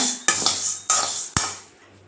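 Black urad dal frying and being stirred in a hot kadai, with a few sharp clinks of a spoon against the pan over a soft continuous crackle.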